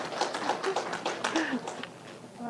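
Audience applause at a Natick, Massachusetts COVID-19 vaccination update event, a run of light, scattered claps that carries on steadily for a couple of seconds and tapers toward the end.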